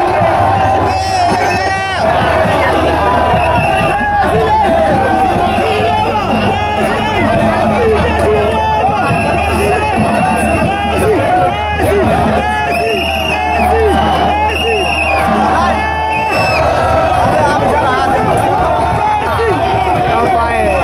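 A huge, dense crowd gathered in heavy equatorial rain in Douala, a loud continuous babble of many voices with scattered cheers, close and unbroken throughout.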